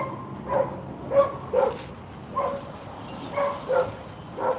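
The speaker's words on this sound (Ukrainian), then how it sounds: "Собака відпрацьовує харчі, дає знати, що він на території" A farm dog barks in short yips at a yard where a mini tractor is shown, about eight barks in uneven bursts, moderately close over faint background noise.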